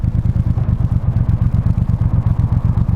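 A Bonneville Speedmaster motorcycle engine runs with a loud, close, throbbing low rumble in rapid even pulses throughout, no voices over it.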